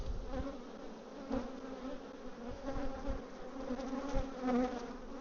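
Honey bees hum in a dense, steady swarm drone at an opened backyard hive during a frame inspection, the buzz rising and falling as bees fly close, with occasional light knocks.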